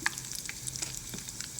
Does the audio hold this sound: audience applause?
no